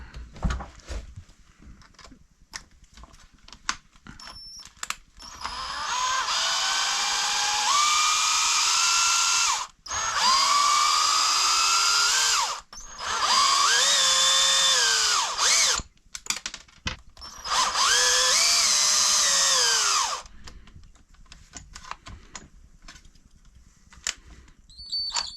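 A power drill or screwdriver backing screws out of the skid plate on a Kagama RC car during maintenance, four sustained whirring runs of a few seconds each with short pauses and small clicks between.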